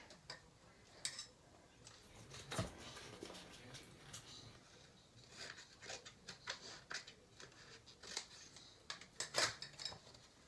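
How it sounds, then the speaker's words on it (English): Scissors snip a small piece of material in a craft setting, a few quiet, sharp clicks and cuts spaced out over faint background handling noise, close but soft, no speech. "I'll cut one real quick here."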